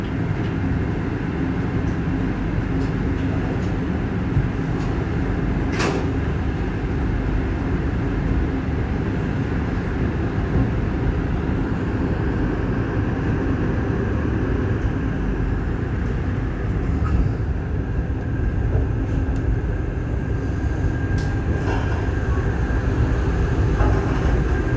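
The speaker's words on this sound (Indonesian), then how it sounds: "kereta Blambangan Express kembali diberangkatkan dari stasiun Bangil" Blambangan Express train pulling out of Bangil station, a loud continuous rumble of wheels and engine that holds steady and close throughout with faint clanks on top.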